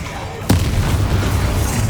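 A Confringo blasting spell explodes in the Hogwarts Legacy video game as a single sharp, loud burst. A dense rumbling roar and background battle noise follow it.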